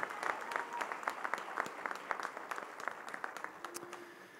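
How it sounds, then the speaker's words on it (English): Audience at a graduation ceremony for alternative education students applauding steadily, a dense wash of clapping with scattered sharper claps, heard from a distance in a large space. "Let's give our students a big round of applause for their great achievements."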